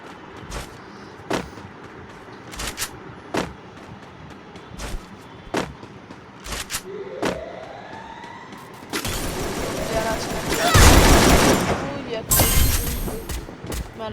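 Gunshots from an AK-47 in a mobile shooter game, single sharp cracks spaced out at first, then a heavy, sustained burst of fire near the end, with a rising whistle partway through.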